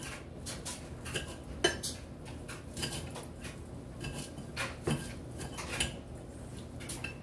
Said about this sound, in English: Now, I'm going to take about maybe a handful of parsley. It's already been washed clean and chop it up.